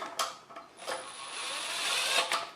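A power tool runs on its lowest torque setting, driving bolts into a Nissan Leaf EM57 motor and inverter housing until snug: a quiet, steady whirring hum with a few short ratcheting bursts, heard alone and fairly close.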